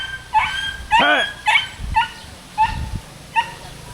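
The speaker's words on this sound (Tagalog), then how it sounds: "Kawawa yung dog." An injured dog lets out a series of high, quivering whimpers and yelps, about six short cries spaced unevenly, close by against faint background noise.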